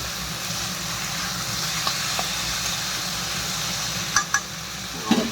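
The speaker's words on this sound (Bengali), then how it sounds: "আর একটুখানি ভাজা ভাজা করে নিই" Pumpkin and potato frying in oil make a steady, moderate sizzle, with a few sharp clicks and scrapes from a utensil toward the end and no talking.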